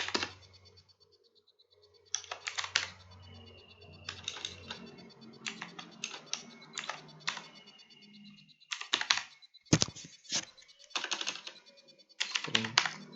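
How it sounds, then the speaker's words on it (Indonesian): Bursts of rapid, close, crisp keystrokes as Java code is typed on a computer keyboard, broken by short pauses and a few sharper key hits. "di sini saya akan ketik public."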